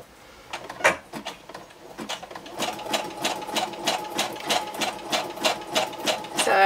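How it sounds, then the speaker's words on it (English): A home sewing machine stitches along the top of a paper card pocket, a fast steady run of close mechanical clicks and whirring that starts in short bursts and then runs continuously without talk. "I'm just going to stitch along the top of this to hold this together."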